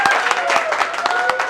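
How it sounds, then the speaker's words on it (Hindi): Audience applause greeting a guest at a song launch event, dense clapping from a crowd under a steady hum, loud and sustained through the moment with a voice partly audible. "तो एक जोरदार ताली बजाकर स्वागत करिए"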